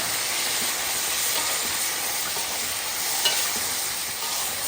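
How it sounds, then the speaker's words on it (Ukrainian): Pork tails stirred in sour cream in a hot pan, giving a steady, even sizzle with soft scraping and no talking. "Перемішуємо це все."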